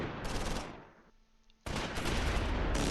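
Gunfire in the World War II strategy game Close Combat IV, with dense bursts of automatic fire, a brief lull, then a loud sustained fusillade, heard alone without talk.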